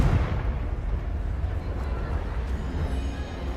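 A Confringo blasting spell explodes in the Hogwarts Legacy video game, a dense, loud rumbling blast that rolls on without a break for several seconds, with no clear speech over it.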